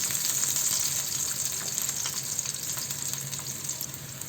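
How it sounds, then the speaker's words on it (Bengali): Chopped garlic and dried chilli fry in oil in a pan, a steady close hiss of sizzling with small crackles that eases slightly toward the end, with no voices. "একই প্যানে রান্না বসিয়ে দিলাম এতে রসুন কুচি শুকনো মরিচ"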